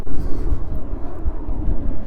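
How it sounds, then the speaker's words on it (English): A WestJet turboprop airliner taking off near a park in Regina in December, a steady loud low engine roar that rumbles continuously under wind noise. "Actually, it sounds like a turboprop. It's one of those WestJet turboprops."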